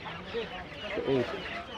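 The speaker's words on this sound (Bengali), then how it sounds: "এখানে দেখছেন প্রচুর মুরগি উঠছে" Soft chicken clucks come in two short bursts over faint background murmur at a village market in Bangladesh, fairly quiet and not too close.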